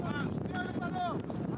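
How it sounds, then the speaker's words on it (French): Wind buffets the microphone at an outdoor football training session, a constant low roar. Several people talk faintly underneath it. "Et on entend le vent aussi."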